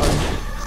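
A big explosion in the video game Halo 1 sounds as a short, loud, dense blast of broadband rumble that fills the whole clip and cuts off abruptly.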